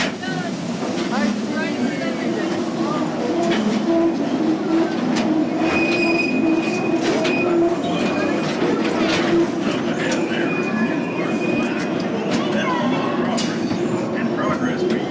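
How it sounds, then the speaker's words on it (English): Mine train ride on a mountain track rolling steadily along the rails with rumbling wheels, occasional squeals and clacks, loud and continuous, with theme-ride narration and effects layered over it. "Slow that train down."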